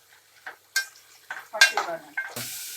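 A spoon stirs turmeric into a lentil curry (pappu charu) in a pot, making a handful of sharp scrapes and metallic clinks against the pot's sides, close and clear against quiet surroundings.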